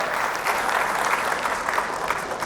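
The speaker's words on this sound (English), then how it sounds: "A big round of applause again, ladies and gentlemen." An audience at a Pan-African Prize award ceremony in Ethiopia gives sustained applause, a dense, even clapping that holds steady throughout with no voices over it.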